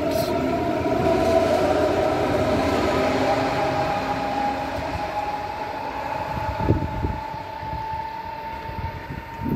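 Trains passing through Trudering, a sustained loud rumble of rail wagons with a steady tonal whine and clattering wheel knocks near the end, close by, with faint voices in the background.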